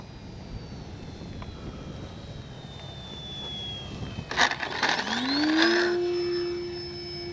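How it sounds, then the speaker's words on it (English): An FMS Ranger 1220 V2 radio-controlled plane flies overhead, its electric motor whining at a distance before swelling louder and rising in pitch as it passes close, then fading away. "Just a fun little plane to scoot around with."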